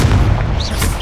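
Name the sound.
Incendio spell explosion in Hogwarts Legacy video game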